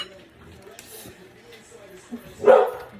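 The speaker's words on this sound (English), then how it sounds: "Sorry, that's my dog." A pet dog gives a single sharp bark near the end, standing out from a quiet kitchen background of faint rustling and low talk.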